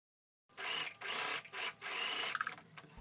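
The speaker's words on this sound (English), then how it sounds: "Now I'm going to sew the front and the back together at shoulder seam." A sewing machine stitches the shoulder seam of a linen dress, running in several close bursts of rapid mechanical whirring separated by brief pauses, with no talk.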